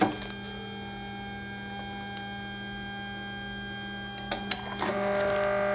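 A Renkforce RF100 3D printer runs with steady whining motor tones, then a few sharp clicks and clacks near the end as it shifts, close and moderately loud.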